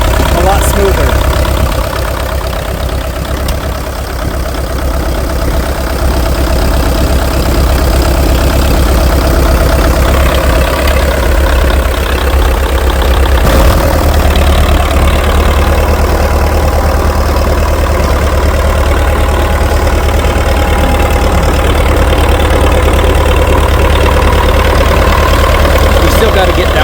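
An International TD-6 crawler's engine runs steadily after a misfire repair, a loud, continuous, even idle lasting throughout, with voices talking over it.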